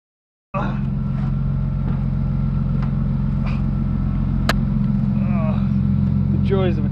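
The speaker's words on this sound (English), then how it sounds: "first things first, I got to get the drift car out of the way" A drift car idles and rumbles steadily as it is eased out of a tight garage, the engine starting abruptly and holding a loud, even low drone with a couple of faint squeaks on top.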